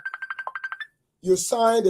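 A phone ringtone sounds during a meeting as a quick series of about nine even electronic pulses. A short silence follows, then voices talk.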